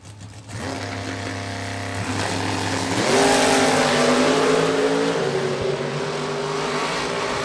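Drag race cars at a door car event, including a 1968 Camaro, roar with rising engine tones that climb and swell into a loud, sustained full-throttle drone, heard from a distance without talk.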